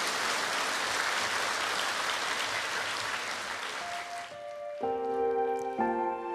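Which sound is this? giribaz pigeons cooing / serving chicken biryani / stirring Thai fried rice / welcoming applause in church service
welcoming applause in church service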